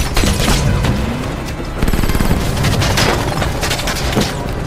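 Rapid bursts of gunfire from a helicopter in an action film, loud and dense, with booming impacts and rattling volleys layered over a roaring background.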